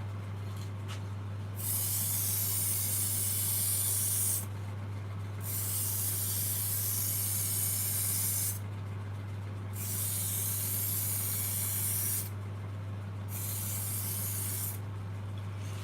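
Lacquer spray-painted in thin coats onto a bowl: five or six close, steady hissing bursts of a few seconds each, separated by short pauses, over a constant low hum, with no talking.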